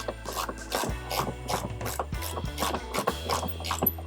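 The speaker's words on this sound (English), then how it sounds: "I go deep socket. Put it on, tighten. Click." A ratchet wrench with a deep socket tightens the clamp on a Hayward C5030 four-cartridge pool filter, giving rapid, close, crisp clicking in an uneven series of strokes throughout.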